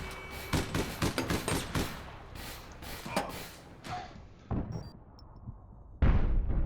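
Rapid gunfire and explosive bursts from an APB Reloaded firefight, dense volleys packed into the first seconds and then sporadic shots, with a heavy close blast near the end.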